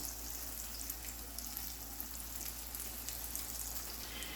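Steady, close sizzling and crackling of mozzarella sticks deep-frying in hot oil, with a continuous bubbling hiss and no talking.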